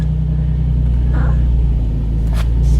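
A 2003 Infiniti G35 engine idles with a steady low rumble as its newly replaced clutch engages, close and constant, with a couple of brief faint clicks.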